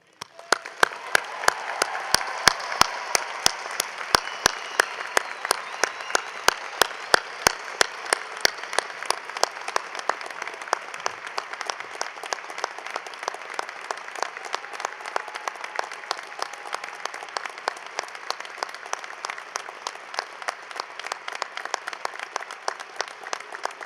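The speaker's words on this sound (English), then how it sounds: "a round of applause to thank them for their service to our country" A large commencement audience applauds for military members, a long sustained roar of clapping with prominent sharp individual claps at the start, continuing evenly for over twenty seconds without talk.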